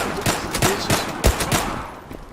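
Rapid bursts of gunfire in a first-person shooter video game, several loud close shots in quick irregular succession with no talk over them.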